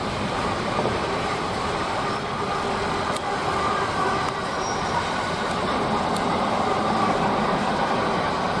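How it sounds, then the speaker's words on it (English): An IET train whacks through Didcot Parkway on the Great Western Main Line at speed, a steady, loud rushing roar of wheels and air that holds for several seconds without voices. "we have an IET whacking through at pace"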